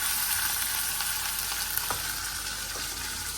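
A few pieces of food crackle and sizzle steadily in a hot pan, a dense continuous frying hiss with occasional small pops and no talking.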